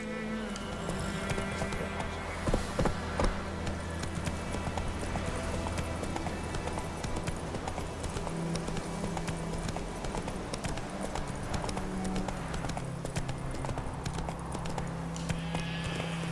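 Roach, a horse in The Witcher 3, gallops with steady clip-clop hoofbeats running throughout, set against a continuous game music and ambience bed.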